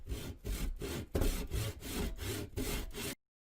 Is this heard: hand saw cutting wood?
yes